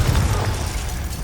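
A Confringo spell exploding in the video game Hogwarts Legacy, a single short, loud, bass-heavy boom that fades quickly.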